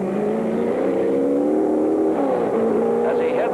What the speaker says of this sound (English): as Bruce had a little trouble getting the engine started